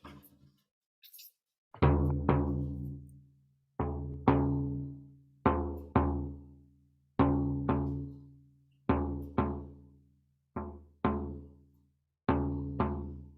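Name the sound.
drum imitating a heartbeat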